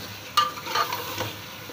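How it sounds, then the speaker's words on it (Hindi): Mutton pieces for arvi gosht frying in a pot and being stirred, giving a soft sizzle with a few scraping stirs and light clinks against the metal, fairly quiet and close. "ये देखें गोश्त भुन रहा है"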